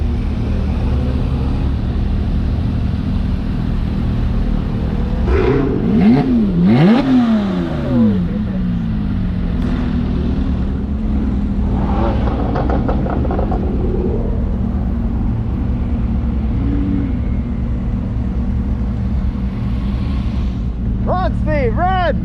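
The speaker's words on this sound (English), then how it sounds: "The sounds of the cars are pretty freaking unreal" Porsche and Lamborghini sports cars at a track day rev hard and peel off one after another, engines sweeping up in pitch over a constant loud rumble, with more revving near the end.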